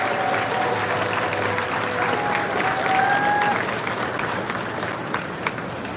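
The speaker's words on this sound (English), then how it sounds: "let's have a round of applause for the Legacy Fleet" Sustained crowd applause at a BART ceremony retiring its Legacy Fleet trains, a steady wash of clapping from a gathered audience, with faint voices and a few whistles mixed in.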